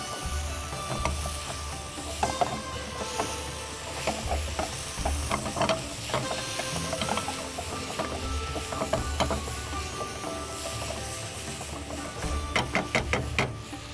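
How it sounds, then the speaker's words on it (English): Meat for balti gosht folded with a wooden spatula in sizzling oil, a continuous close frying hiss with repeated scraping and clacking strokes of the spatula, busier near the end, no talk. "Pick up the wooden spatula and start folding it."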